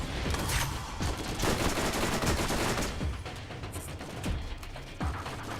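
Gunfire in the Borderlands co-op shooter game: rapid bursts of automatic weapons and repeated shots overlap in a dense, continuous volley at moderate loudness, with no clear talk.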